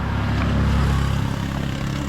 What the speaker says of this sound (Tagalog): Yan yung motor.